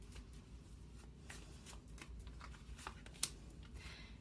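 Tarot cards being shuffled by hand, soft close riffling and flicking in quick bursts over a low background hum, ending with a sharp snap.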